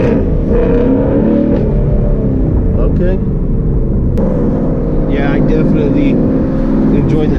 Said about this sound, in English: The H-Pipe sounds a lot better under light acceleration so far.